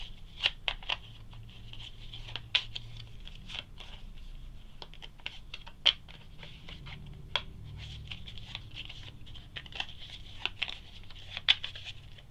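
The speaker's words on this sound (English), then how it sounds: "Shuffle these up for the last final round." Wingspan board game cards are shuffled by hand at a table during a solo game. Crisp, close clicks and flicks come in irregular bursts over a quiet room.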